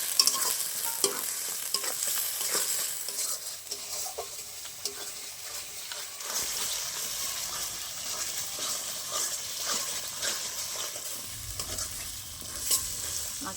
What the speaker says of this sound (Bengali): মশলাটা ভালো করে কষিয়ে নেব। দেবো হলুদ গুঁড়ো, দেবো পরিমাণ মতো নুন,